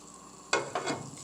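Butter melting in a medium-high pan for crepes, swirled around with a couple of short sizzling bursts over a faint, steady background.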